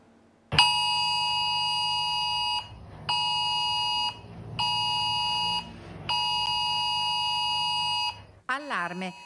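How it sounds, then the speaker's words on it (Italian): IT Alert emergency alarm test tone blaring from a smartphone in the Treviso and Belluno area, four loud sustained bursts with short gaps between them, followed by a brief warbling chirp at the end. "l'allarme è arrivato direttamente sullo smartphone"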